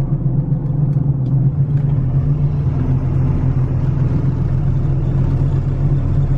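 A car driving on a town road at about 55, heard from inside as a steady, loud low rumble of engine and road noise that stays constant throughout, with no talking.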